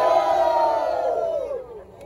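A crowd at a Brazilian freestyle rap battle cheers and shouts loudly together, the roar swelling at first and then fading away toward the end.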